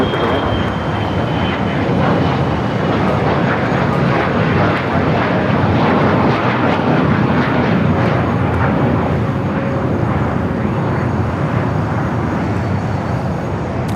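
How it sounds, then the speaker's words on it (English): A Gulfstream business jet takes off at LAX, its engines making a loud, continuous, dense roar that stays strong and even for the whole stretch. "we got the Gulfstream now taking off"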